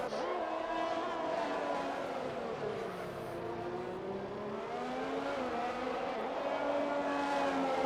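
Ferrari and other racing cars in a video game at the Australian Grand Prix, engines droning loudly and continuously with rising and falling revs throughout, no gaps.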